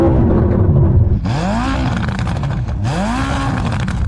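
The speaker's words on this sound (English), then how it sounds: "I don't think that exhaust is stock." A car engine revs twice in quick, sharp blips during an exhaust sound check, loud and close, each rise and fall clearly separated with no talk over it.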